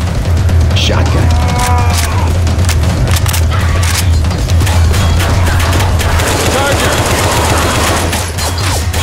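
Heavy shotgun blasts and rapid gunfire in the zombie co-op shooter Left 4 Dead 2, a loud, nearly continuous barrage over a low rumble.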